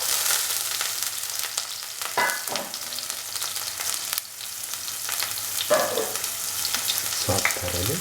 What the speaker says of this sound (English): Put in the garlic and the green chili